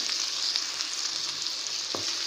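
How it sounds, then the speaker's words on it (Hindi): Bhindi gosht, okra and meat with chilli and turmeric, frying in a pan, giving a steady, close sizzle throughout with a few light stirring clicks and scrapes; no one speaks. "चलिए थोड़ा सा फ्राई करें इन्हें हम।"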